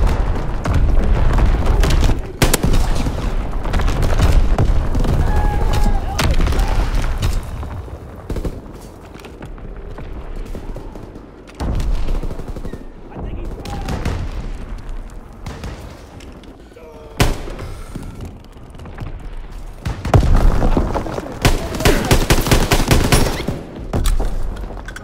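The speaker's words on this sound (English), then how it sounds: "Firing primary battery." Artillery firing from a primary battery: loud, repeated booms and rolling bursts of gunfire throughout, close and heavy, with voices speaking at times over the barrage.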